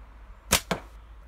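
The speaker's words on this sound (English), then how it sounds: "You can hear it hitting that catch box." Two sharp impacts in quick succession as a slingshot shot fired with a flat elastic band strikes a catch box, loud and close against quiet background.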